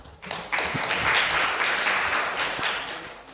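Audience applause welcoming a speaker at a media talk event, a steady wash of clapping that swells quickly and holds for a few seconds before easing slightly.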